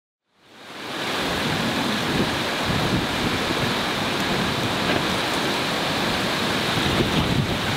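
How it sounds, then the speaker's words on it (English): A strong gale buffets outside a caravan in Australia, rising within a second into a loud, steady roaring rush of wind noise that continues unbroken with no speech. "as you can see outside, it is absolutely blowing"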